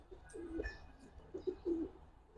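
Pigeons of foreign bloodline coo in a few soft, low, throaty phrases, close by and fairly quiet, with faint chirps in the background.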